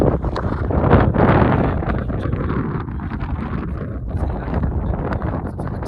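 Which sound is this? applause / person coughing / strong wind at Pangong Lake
strong wind at Pangong Lake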